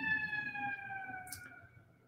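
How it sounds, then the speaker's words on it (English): An ambulance siren passes outside, its steady wailing tones drifting slightly lower as it recedes, fairly distant under a rumbling background, with a brief hiss midway. "that's an ambulance, not a police siren."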